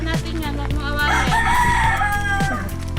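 A rooster crows loudly in a long rising call over a steady low rumble, with short clucks scattered around it.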